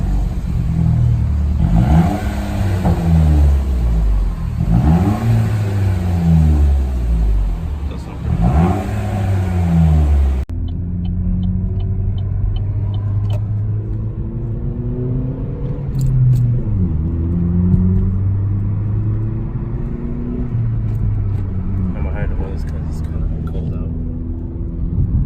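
Chevy Cruze 1.4T Eco with muffler and resonator deleted for a straight-pipe exhaust, revving loudly in repeated rising-and-falling sweeps, then settling to a deep droning idle with a few lighter blips, close by.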